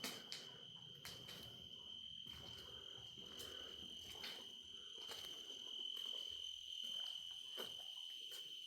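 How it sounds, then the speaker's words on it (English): Dense, steady chorus of crickets chirping at night at the abandoned Whittaker Bermite facility in California, high and continuous, with faint frog croaks and soft scattered clicks. "Those crickets are loud."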